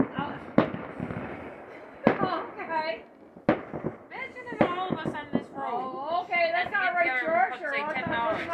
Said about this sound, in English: Hey, there's a fireworks too.